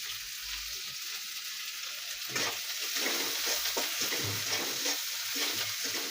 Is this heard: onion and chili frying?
yes